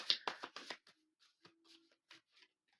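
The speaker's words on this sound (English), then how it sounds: "These cards do not want to shuffle. It's such a big deck to shuffle" A large deck of tarot-style cards is riffle-shuffled in a quick burst of flutters, then several softer scattered card taps and slides follow, close and quiet.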